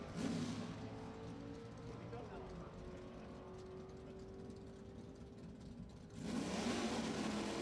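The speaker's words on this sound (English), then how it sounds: "It's another one of those really loud, scary cars." A drag racing car at an NHRA event at Lebanon Valley Dragway, loud and sustained as it accelerates down the strip, with a steady engine roar that swells again near the end.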